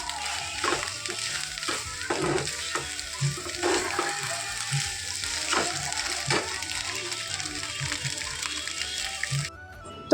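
Eggs frying in a pan, a moderate, continuous sizzle with soft crackles and a few faint clatters, steady until it cuts off near the end.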